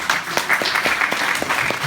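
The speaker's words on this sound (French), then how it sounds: "Vous pouvez l'applaudir car elle est très forte." Audience applause at a French hypnosis stage show, a steady wash of clapping from a crowd with a few sharper claps standing out, filling the moment without a break.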